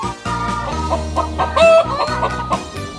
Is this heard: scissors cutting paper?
no